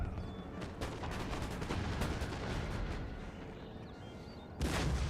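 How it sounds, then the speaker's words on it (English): Cannon fire during a siege battle game, a dense, loud barrage of booming shots rolling continuously, with a heavy blast near the end. "Is that their cannons?"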